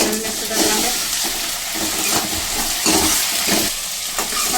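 Ginger-garlic paste frying with browned onions gives a loud, continuous sizzle close by, with occasional soft stirring and scraping strokes in the pan and no voices.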